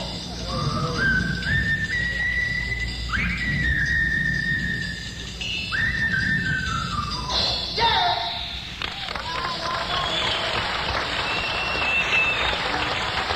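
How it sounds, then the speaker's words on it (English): Whistled boogie melody at a live concert in Cleveland's Allen Theatre, a series of rising, sliding whistle phrases over a murmuring crowd that breaks into cheering and applause toward the end. "That sensational bit of whistling boogie"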